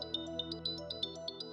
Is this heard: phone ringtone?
yes